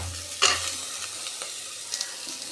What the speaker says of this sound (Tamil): வதங்கின பிறகு உருளைக்கிழங்கை போட்டுடலாம்.